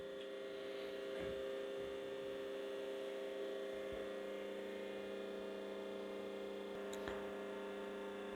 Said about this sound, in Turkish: Bu pırlanta kesme makinesidir. Süs taşı, faset kesme, lapideri makinesi arkadaşlar.